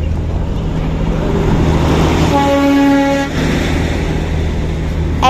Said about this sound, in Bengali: এতটা কাছ থেকে টয় ট্রেনটা দেখেছি